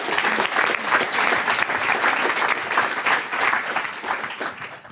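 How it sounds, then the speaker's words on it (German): An audience at a youth hackathon presentation in Ulm bursts into dense, sustained clapping from many hands, fairly close and loud, tapering only slightly over a few seconds. "Ich finde, das ist ein Applaus wert."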